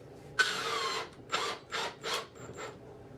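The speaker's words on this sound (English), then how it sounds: "So I'm going to start by attaching just the 4 at the bottom" A power drill drives screws into wood to fix a plastic bin in place, heard as one longer whirring burst followed by several short bursts, close and fairly quiet.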